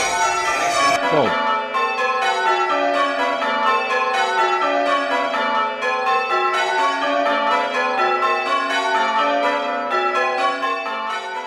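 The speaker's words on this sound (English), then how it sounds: "The training bells handle just like real church bells and trigger optical sensors which tell the computer when the bell is striking." Simulated church bells rung one-handed on training bells ring out in a loud, continuous cascade of overlapping strikes and sustained tones. A low thud opens the sequence.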